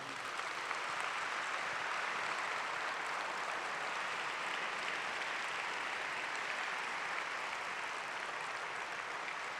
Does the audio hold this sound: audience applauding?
yes